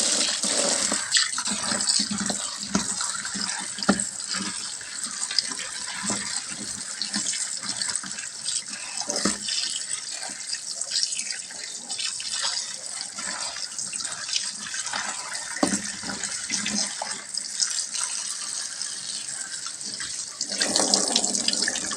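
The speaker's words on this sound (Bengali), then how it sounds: "সবজিটাকে ভালো করে ধুয়ে নেব এখন" Tap water runs steadily into a kitchen sink while vegetables are rinsed by hand, a continuous splashing gush with small irregular sloshes and bumps, close and moderately quiet, no voices.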